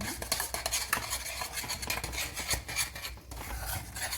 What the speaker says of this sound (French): Faut bien touiller pour que ça n'accroche pas, que ça commence pas à cuire sur le bas de la casserole